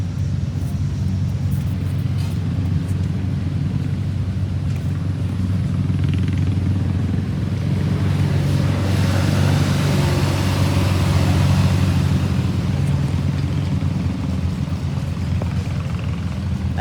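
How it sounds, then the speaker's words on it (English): Vintage tractors straining under load during tractor pulls at the Rough and Tumble Engineers steam engine show, a continuous loud, deep engine rumble and clatter with no pauses, building slightly toward the middle. "there's a couple of my club members pulling tractors over here."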